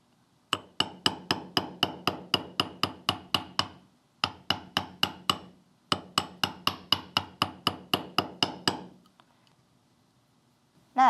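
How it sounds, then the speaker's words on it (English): Rapid metallic taps of a hammer striking a wire heart earring on a bench block, delivered in three quick bursts of a dozen or so blows each with short pauses between, crisp and close. "On a bench block, hammer the heart."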